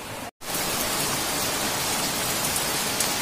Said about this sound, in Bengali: আর এদিকে দেখো আবার বৃষ্টি চলে এসেছে